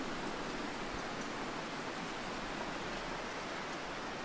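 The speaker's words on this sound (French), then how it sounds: "Bon, par contre, il y a du vent." Steady outdoor wind in the survival game The Long Dark, a constant broadband rushing hiss that holds at an even level throughout with no gusts breaking through.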